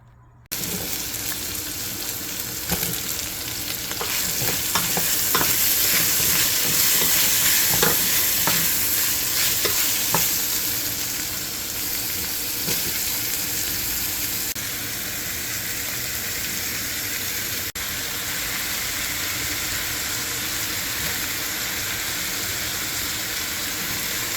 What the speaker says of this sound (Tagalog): Lalagyan po natin siya ng konting karne.